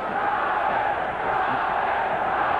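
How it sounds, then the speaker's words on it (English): A boxing crowd at the Julio Cesar Chavez Jr. vs. Ryan Maraldo fight chants Chavez, heard as a loud, dense, continuous roar of many voices that holds steady throughout. "the crowd chants Chavez, Chavez, Chavez"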